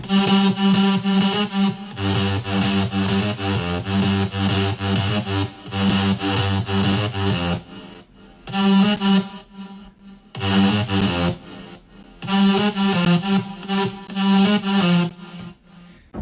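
A loud electro house drop with buzzing distorted synth leads and punchy bass, the rhythm stuttering and breaking into short bursts toward the end.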